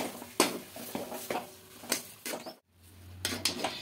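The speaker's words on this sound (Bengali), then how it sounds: "এবার খুব ভালো করে সমস্ত কিছু মিশিয়ে নেব।" A spoon works a semolina and potato mixture in a bowl or pan, with repeated clinks and scrapes every half second or so, a brief pause, then more mixing, close and moderately loud.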